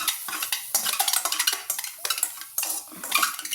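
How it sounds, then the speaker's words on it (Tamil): Snack ingredients are dry-roasted in a pan without oil, stirred with a utensil in quick scraping, rattling strokes, close and brisk with short pauses, no voices. "எண்ணெய் இல்லாமல் நம்ம இதில் போட்டு இப்படி வறுத்து எடுத்துக்கிறோம்"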